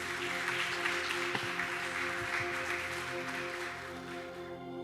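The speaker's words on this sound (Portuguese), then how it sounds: "Você pode aplaudir a Jesus?" A church congregation applauds in a steady wash of clapping that sounds somewhat distant and fairly quiet, lasting a few seconds.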